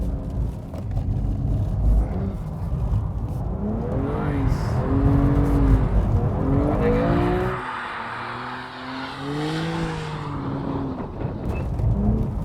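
A BMW sports car engine revs and accelerates hard on a race circuit, pitch rising and falling through gear changes, loud and close, with a brief drop before climbing again.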